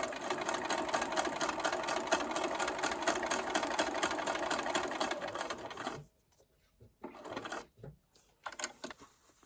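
A sewing machine runs steadily for about six seconds, stitching fabric along a dashed line for a paper-pieced drum quilt block, then stops abruptly, leaving quiet with a few faint handling noises.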